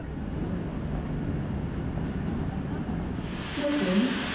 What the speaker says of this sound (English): That was a great little ride on the Javelin, on the Class 395s.